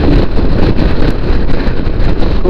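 Strong wind buffets the microphone of a motorcyclist riding in Tasmania, a loud continuous roaring rumble with engine and road noise blended in, close and unbroken.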